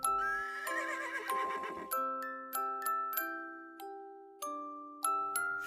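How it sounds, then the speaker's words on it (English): Horses whinny in a loud opening neigh, followed by a string of bright, ringing chime-like tones with clip-clop hoofbeats, playing alone with no voices. "Three galloping horses jump up so high."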